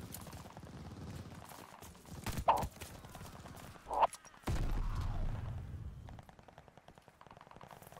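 Top Break rifle shots in Call of Duty: Vanguard, two sharp loud reports a second and a half apart, followed by a dense burst of rumbling gunfire and clattering game effects.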